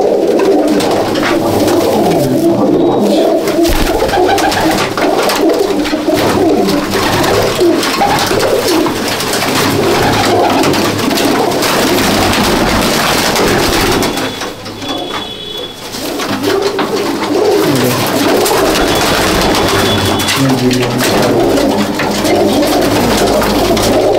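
Old-breed Madrasi pigeons at Bauria, Howrah coo continuously and loudly at close range, their overlapping calls forming a dense, unbroken chorus with no talking.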